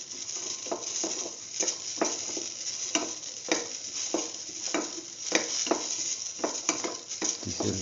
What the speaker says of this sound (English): Keep on sauteing until the onions lose the pinkish color